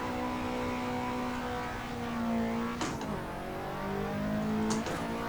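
Simulated car engine in Assetto Corsa drifting, a steady revving drone with shifting pitch, throttle lifts and sharp shifts near three and five seconds, loud and continuous with no talking.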